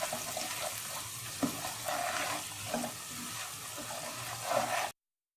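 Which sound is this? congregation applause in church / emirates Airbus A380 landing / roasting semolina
roasting semolina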